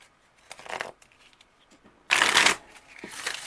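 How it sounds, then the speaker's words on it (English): A deck of oracle cards is shuffled in several quick riffling bursts, soft at first and then one louder, denser flurry, close up in a quiet room with no talking. "I want to pull an oracle card and see what wound is asking for your attention right now"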